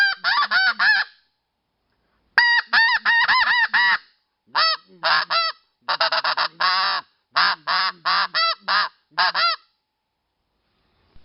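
A RedBone Snowbuzzerd snow goose call, blown by hand, gives loud, sharp honks in quick rhythmic bursts, several series of rapid clucking honks separated by brief pauses, close and alone.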